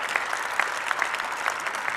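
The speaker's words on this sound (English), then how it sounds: "let's hear for Dr. Collins again" An audience applauds Dr. Collins at a political event, a steady wash of many hands clapping at moderate distance with no talk over it.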